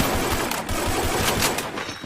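Fast, sustained automatic gunfire from the battle-royale shooter Free Fire in a tournament match, a loud steady rattle of shots with no gaps.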